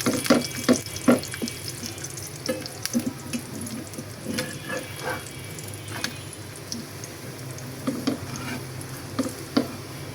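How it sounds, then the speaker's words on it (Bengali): Paratha flatbread fries in a pan with a continuous hissing sizzle that resembles running water, broken by intermittent scraping and tapping of a utensil, close and steady. "পরোটা ভেজে নিচ্ছি"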